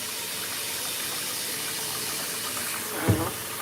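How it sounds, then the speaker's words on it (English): Water runs steadily from a grooming sprayer during a cat's grooming, a broad continuous hiss that swells into a brief gushing splash near the end, close and with no talking. "So I can turn the sprayer on."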